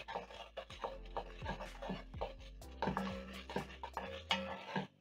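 Tomato paste and onions being stirred in a pot for Coca-Cola beef short ribs, heard as soft, repeated scraping strokes of a utensil against the pot, quiet and close with a low background hum.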